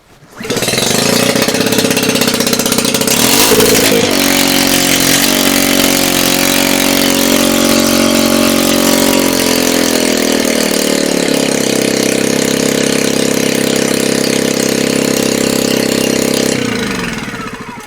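A Honda EU10i generator's small engine catches and runs loud and close, a rough buzzing drone that shifts pitch as it settles, then cuts off near the end.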